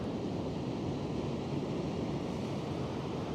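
Ocean surf washing onto a beach, a steady broadband roar of waves with wind noise on the microphone, constant and fairly loud, no voices.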